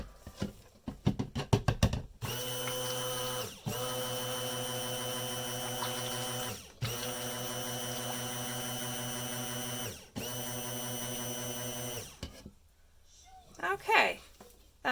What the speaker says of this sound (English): I have a little bit of mica on my stick blender, so I'm going to go ahead and kick that off of the stick blender